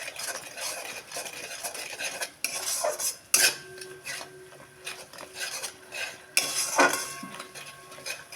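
A spoon scrapes and stirs masala with ground cashew paste in a pan for egg curry, with clinking metal, scraping strokes and louder clanks against the rim in a steady intermittent rhythm.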